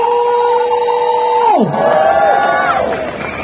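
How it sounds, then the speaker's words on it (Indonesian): A large crowd at a May Day labor rally cheers and shouts for Indonesian President Prabowo Subianto, loud sustained voices that swell and then dip slightly at the end. "dengan hormat kami berikan tepuk tangan yang paling meriah untuk Presiden Republik Indonesia Bapak Prabowo Subianto"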